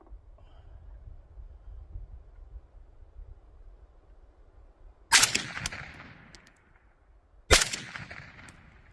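Two sharp, loud gunshots are fired at a silhouette target at an outdoor range, a few seconds apart, each with a ringing decay, over a low background rumble.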